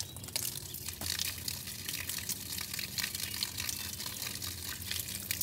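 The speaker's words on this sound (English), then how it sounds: "It's got water coming out." Water gushes steadily from a homemade gravity-fed water line, a continuous broadband rush with a small splash near the start, moderately loud and without talk.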